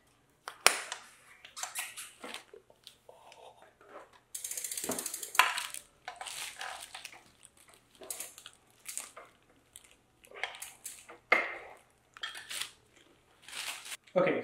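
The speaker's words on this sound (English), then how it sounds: "use the wrench to make both sides tight" A hand ratchet wrench tightens bolts on both sides while an ENVO D50/ST50 electric bike is assembled, giving bursts of quick metallic clicking in short runs with pauses between, close up and without talk.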